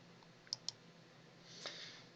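Two quick, faint clicks of a computer mouse in close succession, followed by a soft rustle in a quiet room.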